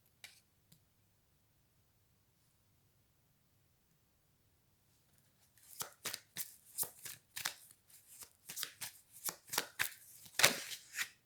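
Tarot cards are shuffled close up after several seconds of near silence, a series of crisp, quick riffling bursts of varying length that grow louder toward the end.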